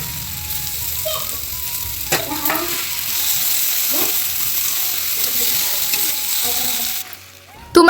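Carrots, potatoes, cauliflower and peas sizzle steadily with spices in a hot pan while being stirred, giving an even, close frying hiss broken by occasional scrapes and clinks of the spoon.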